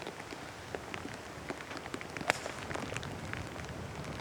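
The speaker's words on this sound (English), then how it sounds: "Look at this rain coming down now." Steady rain pouring down on a golf course during a professional tour event, a dense continuous hiss with scattered droplet patters, fairly close and even throughout.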